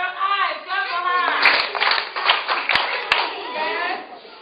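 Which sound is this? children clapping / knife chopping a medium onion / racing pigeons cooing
children clapping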